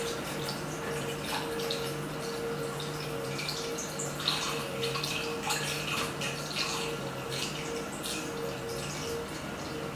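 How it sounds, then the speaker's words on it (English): Spring water pouring and trickling into a crock of homemade sauerkraut, a continuous splashing flow with small drips, with a faint hum beneath it. "The water that I use is spring water, and you don't ever want to use tap water doing this."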